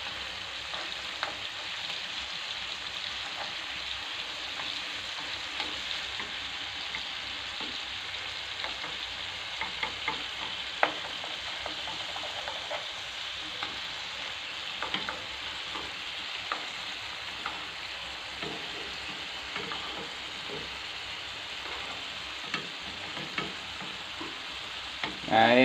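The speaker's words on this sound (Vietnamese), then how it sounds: "Chiên sơ cho nó săn cái tôm này lại cho nó thơm ngon cái này." Shrimp frying over low heat in a pan, giving a steady close sizzle broken by scattered scraping clicks as the utensil stirs them, with no talk.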